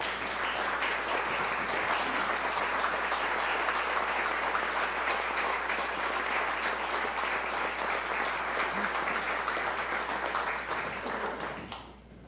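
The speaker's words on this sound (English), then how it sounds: "Please stand and let's give them a round of applause." An audience gives a standing round of applause for Camellia Festival volunteers at a 2018 State of the City address, with steady, dense clapping that holds for about twelve seconds before tapering off at the end.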